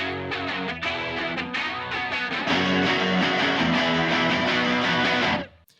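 Post-chorus section of a pop-punk song: driving distorted guitars, bass and drums build louder midway, then cut off abruptly at the end.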